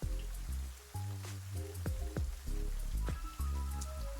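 Rain sound effect playing as a steady wash of falling rain and drips, loud and continuous, layered with low tonal music underneath.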